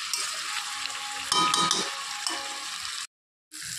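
Chicken with spices and chicken masala sizzles loudly in a pan and is stirred with clattering scrapes, a steady close frying hiss that cuts out briefly near the end.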